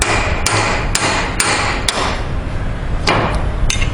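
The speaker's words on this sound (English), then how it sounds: "you will need to take a wedge and a hammer and drive lightly right in between where the ring gear and" A hammer drives a wedge between the ring gear and housing during M16 disassembly, giving sharp, loud metallic strikes at a steady pace, about eight blows in four seconds, with no talking.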